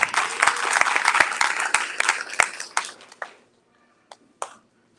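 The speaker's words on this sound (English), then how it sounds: "Let's give him a big round of applause" Loud, close applause from an audience at a lecture event, a dense burst of clapping with sharp individual claps that thins out and stops abruptly, followed by near silence and a couple of isolated claps.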